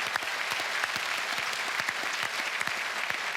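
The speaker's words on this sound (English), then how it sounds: "give him a round of applause." Studio audience applause on an AFL football TV show grand final special, a dense, sustained burst of many hands clapping evenly with no speech over it.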